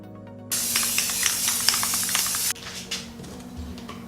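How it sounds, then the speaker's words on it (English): A steady aerosol hiss from a spray can of sealer over a stenciled pallet sign runs for about two seconds, then cuts off, leaving a faint background hum and a soft clatter. "I'm gonna try spraying it with a sealer."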